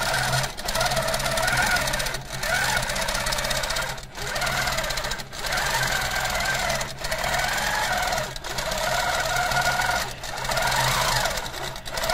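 A longarm quilting machine stitching a pantograph pattern gives a loud, continuous mechanical hum and rapid needle chatter, with a short dip in intensity about every second or two as the machine moves along.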